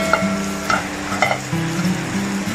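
Dried fish fries in a pan for chammanthi, giving a close, steady sizzle broken by a few short scraping stirs. No one speaks.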